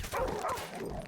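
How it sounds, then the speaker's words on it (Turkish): Dogs in the video game Call of Duty Modern Warfare Remastered let out a brief yappy bark, close and fairly loud amid muffled game noise. "Ah şu köpekler."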